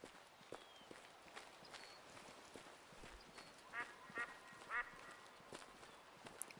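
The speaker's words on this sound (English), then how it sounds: "I can hear all kinds of ducks." Several ducks quacking in a flock within the Way of the Hunter hunting game, Aurora Shores DLC, with short harmonic calls clustered in the middle, mid-distance over soft footsteps and ambient wetland noise.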